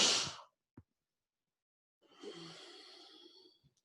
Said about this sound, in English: it's a quick inhale. Wake up, exhale slowly.